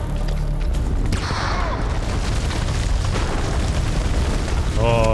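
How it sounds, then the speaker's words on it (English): A grenade goes off in the horror video game House of Ashes, a loud sustained boom and rumble filling the scene, followed near the end by a short electronic tone. "Grenade!"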